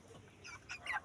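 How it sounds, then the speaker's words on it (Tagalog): Pet chicks growing into young chickens give a few soft, high clucks and peeps close by, getting a little louder toward the end, with no one talking. "kalalaki ang aking mga alagang sisiw"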